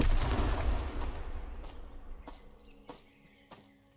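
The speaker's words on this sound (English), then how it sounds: "so yeah, it was a gunshot" Gunfire in the survival shooter game Road to Vostok, a few sharp distant reports spaced apart with echoing tails over a low rumbling ambience.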